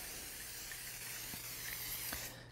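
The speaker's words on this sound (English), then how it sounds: "Make sure you spray it really well," Cooking spray hissing into a 9-inch round cake pan, a steady close aerosol spray lasting a couple of seconds with a couple of faint clicks, no voice over it.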